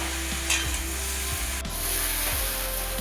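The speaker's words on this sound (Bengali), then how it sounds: "কিছুটা নেড়েচেড়ে নেওয়ার পর আদা, জিরে, লঙ্কা ও সর্ষে বাটাটা দিয়ে ভালো করে নেড়েচেড়ে নিচ্ছে।" A spoon scrapes and stirs ginger, cumin, chili and mustard paste in a sizzling pan, with regular rhythmic scraping strokes over a constant fry, close and alone.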